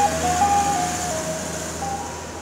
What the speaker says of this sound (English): Here comes the ice cream truck just to play in our song.